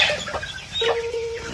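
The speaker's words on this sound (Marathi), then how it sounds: "तर ही जी पहिली कोंबडी दिसते ती थोडीशी कोंबडी जरा अग्रेसिव्ह आहे." A hen, one of two hens competing over eggs, clucks in short close bursts, with a sharper call near the end; no one speaks.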